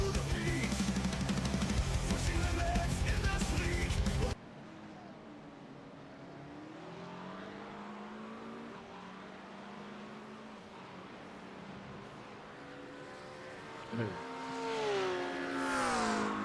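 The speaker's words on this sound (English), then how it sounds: "There's fucking cars doing burnouts" Race cars doing burnouts in the iRacing sim game, with a dense, loud engine roar at the start that drops to a quieter, wavering engine drone with rising and falling pitch sweeps.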